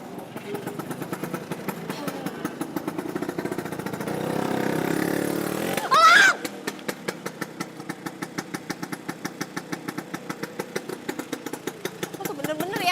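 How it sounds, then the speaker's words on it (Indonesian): A motorcycle engine idles nearby on a street in an Indonesian TV drama. It gives a steady, rapid putter, swells briefly into a short rev midway, then settles back to a ticking idle, with some voices faintly mixed in. "Kayak suara motor elang."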